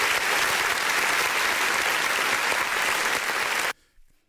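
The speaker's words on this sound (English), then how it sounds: "We got to do applause for it being on screen." Dense, steady applause from a group fills almost four seconds at close range, then cuts off sharply into near silence with a faint trailing sound.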